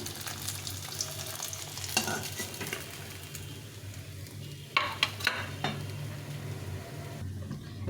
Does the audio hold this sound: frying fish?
yes